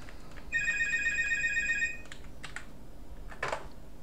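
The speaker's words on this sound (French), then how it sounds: "J'ai été interrompu par cette andouillerie de spam téléphonique." A telephone rings with one sustained electronic trill lasting over a second while computer keys are tapped lightly before and after, followed by a brief rustle; nobody speaks.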